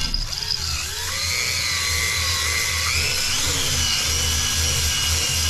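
A power drill spins a cylinder hone inside the bore of a Yamaha JN6 golf cart engine, giving a steady loud whine with shifting pitch and a grinding scrape that runs continuously throughout, with no talk.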